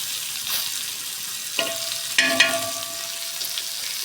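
Fish frying in a pan, a steady close sizzle with bursts of stirring and spatter around the middle, continuing alone without talk.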